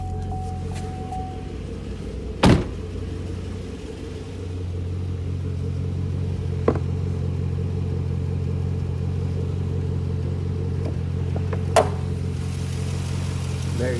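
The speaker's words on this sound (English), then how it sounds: "The only thing you hear is a little ticking in the engine." A 2015 Chevrolet Camaro SS 6.2-liter V8 idles steadily with a low, even rumble, joined by a few sharp clicks and a faint light engine ticking.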